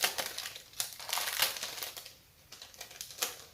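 Paper crinkles and rustles as a mailed package is opened, in close, uneven bursts of crumpling with no talking over it.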